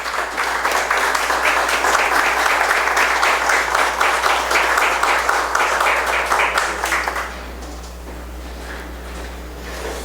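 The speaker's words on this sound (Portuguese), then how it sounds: "E eles querem, em nome dessa casa, te aplaudir de pé." Audience members in a city council chamber in Criciúma give a standing ovation. The dense, loud applause is sustained for about seven seconds, then stops abruptly, leaving only a low room hum.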